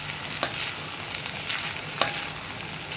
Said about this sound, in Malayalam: ഈ കോളിഫ്ലവറും കൂടി ചേർത്തിട്ട് നന്നായിട്ടൊന്ന് ഇളക്കി മിക്സ് ചെയ്യാം